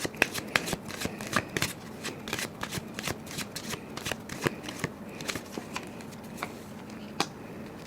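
A deck of tarot cards is shuffled close up, giving a continuous stream of crisp, papery riffles and snaps with an uneven rhythm that thins out toward the end.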